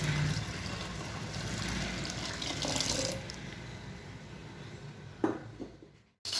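Water runs steadily into a pot of whole masoor lentils with tamarind, a continuous close rushing pour that fades a little before stopping abruptly.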